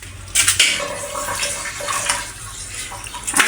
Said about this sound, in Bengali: মাংস থেকে কিন্তু পানি উঠেছে, আমি হচ্ছে মাংসগুলো পানি নিংড়াই নেব।